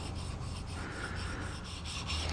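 The flat back of a Japanese chisel is rubbed back and forth on a sharpening stone, giving a steady, close gritty scraping in even strokes with no talk.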